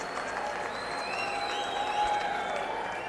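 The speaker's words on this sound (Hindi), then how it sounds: "उनके लिए एक जोरदार तालियों से स्वागत होना चाहिए।" Crowd at a political rally breaking into applause to welcome a guest, a steady, fairly distant wash of clapping that stays even throughout, with amplified whistling or feedback tones drifting over it.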